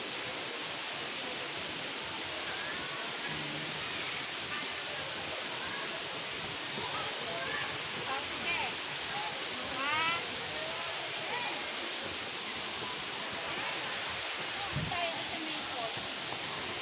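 A waterfall at a falls rushes as a constant broad roar, with people talking and a voice over it now and then.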